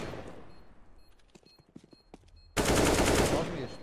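Gunfire in CS:GO on the Mirage map, with scattered sharp clicks and small pops that give way to a sudden loud, dense burst of automatic fire lasting to the end.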